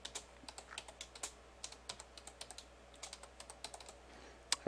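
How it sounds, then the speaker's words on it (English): Quiet bursts of keystrokes on a computer keyboard as login credentials are entered, irregular clicks in short runs with brief pauses, close and fairly soft, with no talking. "I'm going to type in my credentials."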